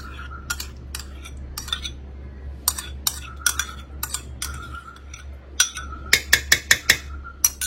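A spoon clinks against a bowl while yogurt and ginger-garlic paste are mixed into a biryani marinade, giving sharp metallic taps at an uneven pace that speed up into a quick run of clinks near the end, with no talk.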